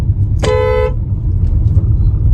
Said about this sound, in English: This is a living national highway where traffic is always existent.